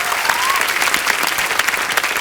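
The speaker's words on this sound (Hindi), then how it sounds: "जोरदार तालियां।" Loud, dense studio audience applause on a Hindi comedy talk show, a steady roar of many hands clapping close and continuous throughout.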